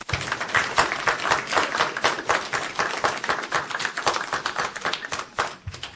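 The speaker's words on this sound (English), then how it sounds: "Can we just give them applause, please?" Audience applause for a panel of forensic psychology speakers in a warm university room, a steady wash of many hands clapping at close range that fades out near the end.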